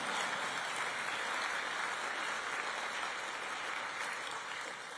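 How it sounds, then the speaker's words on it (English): Steady applause from an audience at a Scottish Conservative political speech, a continuous dense wash of clapping heard at a distance and fairly faint, with no voices over it. "that deserves a round of applause"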